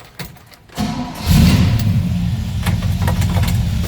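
A 1966 Chevrolet C10 pickup's small-block Chevy V8 cranks briefly, catches with a thump, then settles into a loud, steady, close-up idle with a deep rumble.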